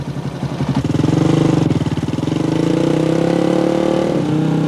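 A motorcycle engine pulls away during rider training on a road, its loud throaty note rising as the revs climb and then holding steady and close, with no voices.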